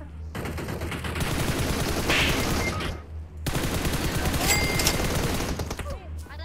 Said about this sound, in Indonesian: ada yang nembakin aku dari atas